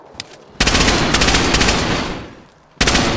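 Loud bursts of automatic gunfire in DayZ on a blackout server, a short shot then a long sustained rapid-fire stream, a pause, and a fresh burst at the end, close and harsh with no talking.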